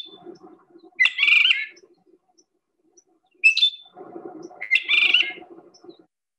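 A Phainopepla sings its song type that has no mimicry, three short bright warbled phrases separated by pauses, close and clear over a quiet background with faint low chatter.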